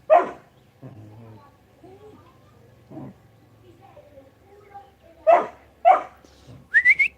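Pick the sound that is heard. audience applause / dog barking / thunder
dog barking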